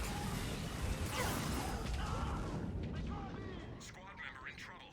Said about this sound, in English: Oh, those are grenades.